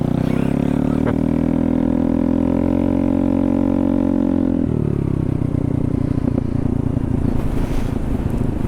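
A Honda Navi motorcycle with the baffle or dB killer pulled from its exhaust runs loud and steady, then its note drops and turns rougher, heard close and riding through heavy wind noise.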